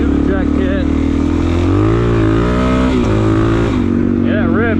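A Suzuki DRZ400S dual-sport motorcycle with an aftermarket exhaust, airbox mod and jet kit, ridden in the desert, gives a loud, close, throaty engine drone that rises and falls as the throttle changes.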